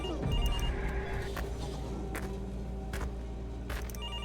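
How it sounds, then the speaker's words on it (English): A telephone rings in a carnival horror video game, a sustained ringing tone layered over a low droning ambience with several sharp clicks or bangs scattered through. "Who is calling me? I already answered a phone."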